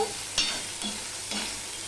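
Okra pieces fry in a pan over medium heat, with a soft steady sizzle under a few scraping, knocking strokes of a spatula being stirred through them, close and quiet.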